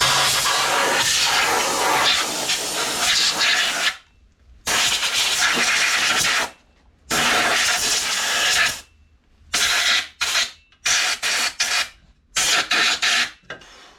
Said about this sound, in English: you want to take compressed air and blow your clutch all out good